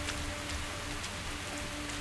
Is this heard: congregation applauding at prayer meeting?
no